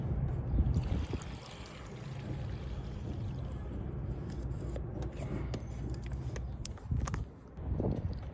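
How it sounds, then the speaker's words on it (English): Coolant drains from the expansion tank of an Audi B8 S5 with the 4.2L V8, a steady close pouring and trickling wash of liquid with a few brief clicks and knocks, no voices. "I want to drain the coolant first because that's actually the main one"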